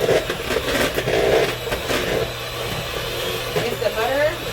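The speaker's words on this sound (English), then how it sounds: "I like using my hand mixer because I give it to mix the way I want it to mix" An electric hand mixer whirs as it beats butter for frosting, a steady close motor drone under continuous talking.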